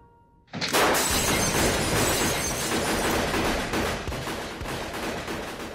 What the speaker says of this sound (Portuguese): começa uma saraivada de tiro